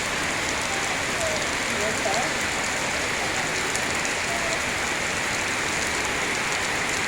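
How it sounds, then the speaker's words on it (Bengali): Heavy rain pours down steadily, a dense, continuous hiss of countless drops striking surfaces, even in loudness throughout with no breaks. "দেখেন প্রচুর পরিমাণ বৃষ্টি হইতেছে"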